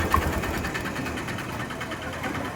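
A Honda Activa BS6 scooter with a pickup fault runs close up, its small engine holding a steady buzzing idle for the whole stretch, with no voices.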